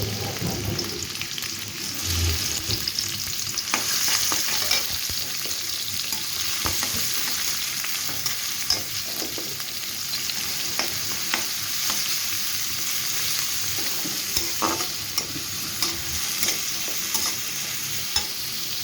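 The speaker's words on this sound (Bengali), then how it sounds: "পেঁয়াজটাকে আমি ভালোভাবে নেড়ে নরম করে নেব।" Chopped onion sizzles steadily in hot oil in a pan as a chicken and kohlrabi curry begins, with continuous stirring scrapes and small clicks running throughout, close and fairly loud.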